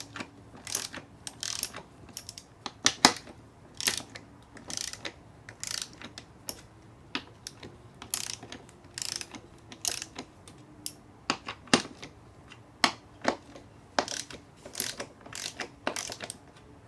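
A ratchet tightens 15 mm bolts during an NP249 transfer case rebuild, giving close, sharp clicking in repeated short bursts with brief pauses between strokes, with no talking.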